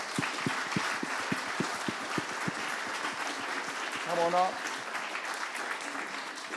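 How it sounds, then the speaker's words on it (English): Scattered rhythmic clapping from an audience at an interactive panel event on the environment, moderately loud, going on under a person who speaks briefly over it. "Give them a round of applause."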